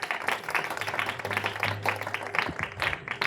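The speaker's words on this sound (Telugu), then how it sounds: "క్లాప్స్ కొట్టండి." Dense applause from a school or parish event audience, steady clapping throughout with a low hum underneath, fairly loud and continuous.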